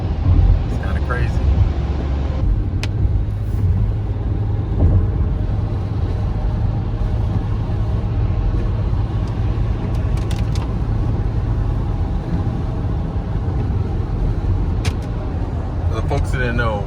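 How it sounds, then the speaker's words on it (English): Car interior while driving through road tunnels in Boston, a steady low rumble of engine and tires with occasional clicks, a person speaking over it. "So we're driving in Boston, going through the tunnels."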